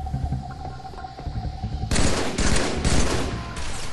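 A Jackal sniper fires a beam rifle in Halo 3, a burst of sharp, loud energy shots after a quieter stretch of game ambience, several blasts in quick succession.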